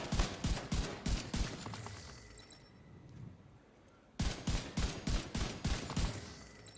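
Doctor Home exotic rifle from The Division 2 fires in rapid, loud bursts of sharp shots, a dense volley for about two seconds, a brief quiet gap, then another close, evenly spaced string of shots.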